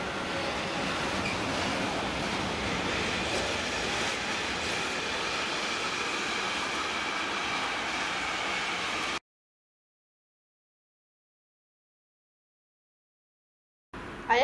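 A freight train hauled by a class 386 locomotive rolls past in Dresden, a steady broadband rumble and hiss of wagons that holds for about nine seconds before cutting off abruptly, with no voices.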